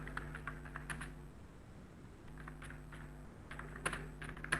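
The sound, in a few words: typing on a computer keyboard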